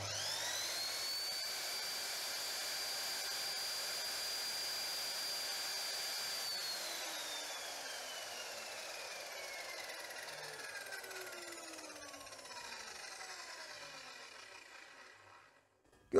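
A Vonroc 2000W laser radial miter saw runs steadily at full speed with a loud, high motor whine, then is switched off near the end, its pitch sliding down as the blade spins to a stop.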